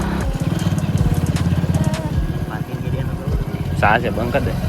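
A motorbike engine idles and revs nearby in a parking area for a short stretch, with a voice speaking over it.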